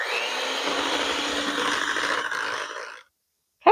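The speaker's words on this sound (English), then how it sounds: "So first mix it in and then work with the mixer." An electric mixer whirs steadily through crepe batter for about three seconds, loud and close, then stops abruptly. A short sharp sound follows just at the end.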